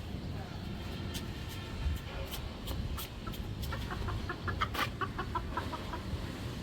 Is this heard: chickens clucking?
yes